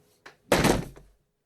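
A quick thump followed by a louder hard slam, like a nursery window being pushed shut, fading fast into silence.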